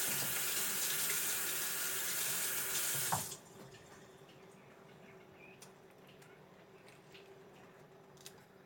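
A kitchen tap runs while an onion is rinsed under it, a close, steady gush of water that stops abruptly after about three seconds. Only faint room quiet and small clicks follow.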